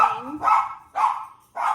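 Pet dogs bark at home, three loud, close barks spaced roughly half a second apart, each sharp onset trailing into a short yelp.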